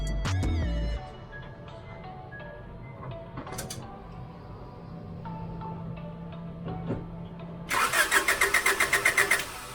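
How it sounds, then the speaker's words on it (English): A 1996 Honda car's engine is cranked after a fuel filter replacement, starting with a short whir, then a stretch of quieter mechanical clicking and hum, ending in a loud, rapid pulsing crank close by, with no talking. "I'm gonna start the car."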